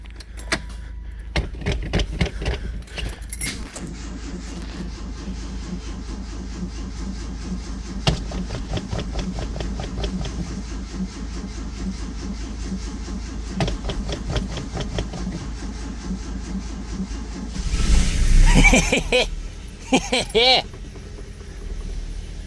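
A carbureted 2.2 liter inline four in a 1984 Dodge Mini Ram pickup, sitting in neutral after years parked, idles roughly with an uneven, misfiring chug, then revs up briefly near the end, with people talking over it.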